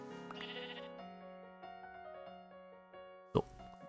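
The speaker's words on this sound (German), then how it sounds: "Er hat die dümmsten Schafe, die ich jemals gesehen habe." Minecraft sheep bleat several times in a row, clear and close, with a short plop-like game sound near the end.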